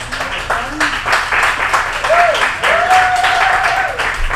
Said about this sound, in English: Are you giving me the sympathy applause?